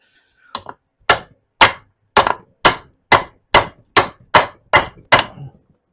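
Metal hammer blows striking a part on a VW Beetle transmission, ten sharp ringing clangs at a steady, roughly half-second rhythm, loud and close with no talk.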